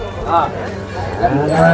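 Farmers' bullocks at a busy Sunday cattle market at Lasur station give low lowing calls amid crowd noise and nearby speech, heard briefly over a dense, continuous background.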